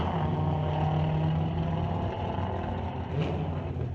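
A diesel Ford F350 pickup roars in a junior street drag race, its engine a sustained heavy drone that dips briefly midway before swelling again.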